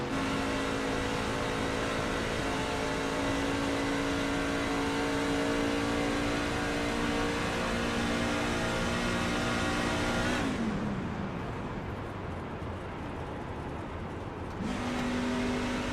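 Onboard a race car in the Scrambler Series Allen Farms 135 at Charlotte, the engine holds a loud, steady high drone, then the driver lifts off the throttle for a few seconds before it picks back up.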